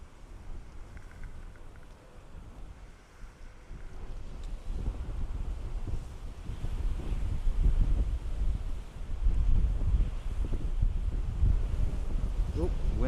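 Gusts of wind buffet an outdoor microphone at Dublin Airport, a continuous low roaring rumble that swells and grows louder partway through and stays heavy to the end.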